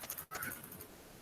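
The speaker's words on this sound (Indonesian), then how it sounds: "ngetik nih." Quick, light keystrokes on a computer keyboard during an online Google Workspace for Education session, a soft patter of taps under faint room noise.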